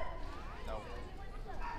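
Siberian Husky and other dogs at an outdoor gathering on National Dog Day, with a few short barks mixed into busy crowd chatter and voices nearby.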